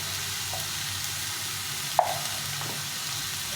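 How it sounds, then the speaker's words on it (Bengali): Tomato and spice masala with turmeric and salt being stir-fried in a pan for fish curry, a soft steady sizzle with one sharp utensil knock partway through. "দিয়ে এটাকে ভালো করে কষিয়ে নিই"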